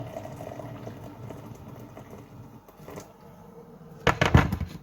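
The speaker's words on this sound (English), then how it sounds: "My kettle's just boiled, so now I'm just going to pour the water in" Freshly boiled kettle water poured into a jug of crumbled stock cubes for a cottage pie. Soft trickling and bubbling in a quiet kitchen build into a louder splashing pour near the end.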